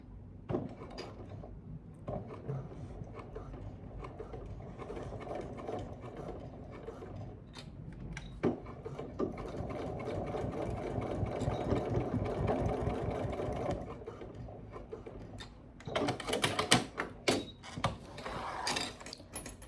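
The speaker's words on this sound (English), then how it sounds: "we're going to sew a triple stitch along here too" A sewing machine runs a triple stitch along a dog collar, making a steady mechanical whir that rises to a sustained rattling run in the middle and ends in a few louder clatters, with no one talking.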